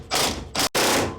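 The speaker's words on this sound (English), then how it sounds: "drive it in, and it's going to take the pitman arm and pull it right off of that shaft" A pitman arm puller on a Jeep's worn steering pops the pitman arm off its shaft: two loud, close mechanical bursts split by a brief silent gap, harsh and metallic, with no voices.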